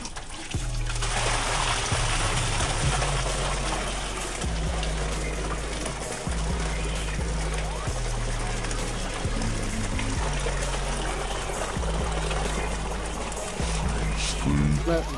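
Very hot water gushes steadily from a tap, splashing continuously for several seconds, with a low rumbling undertone.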